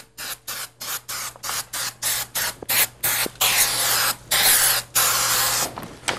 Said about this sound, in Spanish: Ponemos un poquito de spray rápidamente.